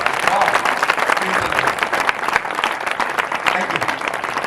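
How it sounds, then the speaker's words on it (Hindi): Church congregation clapping loudly in praise during a worship service, a thick, continuous wall of hands beating together from a large gathering, with voices blended underneath. "तो ऐसा महान खुदा, इसको जोर से ताली बजाएं।"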